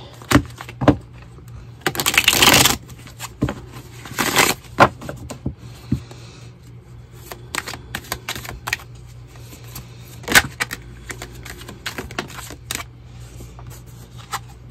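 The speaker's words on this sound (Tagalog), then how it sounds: "Balasahin muna po natin para alam nyo po na binalasa ko po ito ng mabuti." Tarot cards shuffled by hand, with a loud riffling burst early on and a second shorter one after, then scattered quiet taps and card clicks close to the microphone, with no talking.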